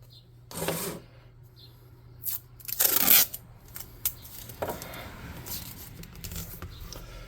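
Masking tape is ripped off a roll in a hobby workspace, two sharp close tearing bursts followed by quieter rustling and handling sounds.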